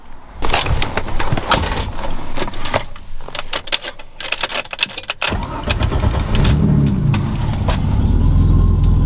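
Turbocharged M20 engine in a BMW E30 cranking over with clattering starter noise and key jangles, then catching and settling into a loud, steady idle, recorded close up with no talking.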